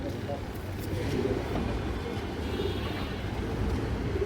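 Pigeons coo softly and continuously in a crowded pigeon market, a faint low burble under someone talking and general market background noise.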